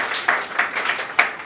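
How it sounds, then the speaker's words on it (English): An audience claps briefly at a school event honoring a long-serving girls' high school principal, a short burst of several hand claps with no one talking. "Just clap for her."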